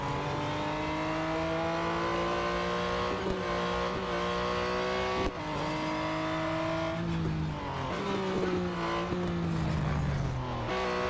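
Race car engine in the Real Racing 3 video game, a sustained high whine that holds steady, then dips and climbs again through gear changes, with occasional tire noise and no talk.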